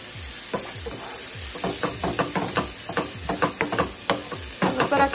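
Onion frying in a pan for huevos rancheros, a steady close sizzle with repeated clacks of a utensil stirring and scraping through it, no voices.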